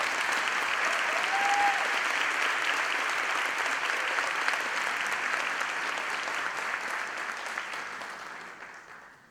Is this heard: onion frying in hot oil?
no